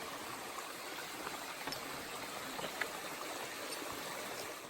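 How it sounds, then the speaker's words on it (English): A small babbling brook runs steadily outdoors on a warm day, a continuous gentle trickle and gurgle with faint splashes, heard close and alone. "babbling brook here."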